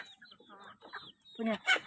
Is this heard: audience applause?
no